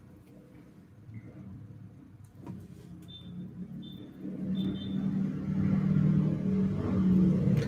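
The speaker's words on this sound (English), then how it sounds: "Hold on, motorcycles are about to go by. Maybe it's just a singular motorcycle." A single motorcycle approaches along a street, its engine rumble growing steadily louder and peaking near the end, while a person speaks briefly early on.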